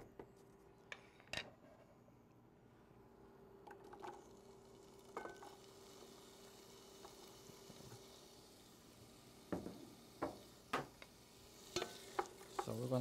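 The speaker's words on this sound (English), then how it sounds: "We're going to saute our vegetables." Vegetables sauté in clarified butter in a pan, making a faint, soft sizzle under intermittent stirring and scraping clicks that grow more frequent toward the end.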